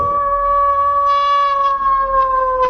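A long, eerie wavering howl holds steady and carries from a distance, with no voices present.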